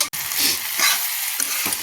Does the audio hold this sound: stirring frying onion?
yes